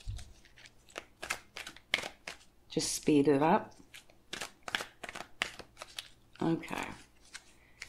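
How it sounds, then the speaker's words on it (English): A deck of oracle cards is shuffled by hand in rapid papery riffles and taps, close up, with someone talking briefly over it. "So I am going to shuffle these on camera for you."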